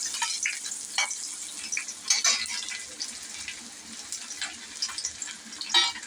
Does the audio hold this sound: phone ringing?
no